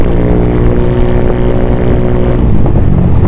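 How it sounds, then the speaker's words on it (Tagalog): A loud, steady motor scooter engine drones continuously with a buzzing exhaust note from a replica Pro aftermarket pipe on a Honda Click 125, holding a fairly even pitch throughout. "ang sarap sa pakiramdam na napapakinig ko yung tambutso ko, lalo kung mas maingay dito"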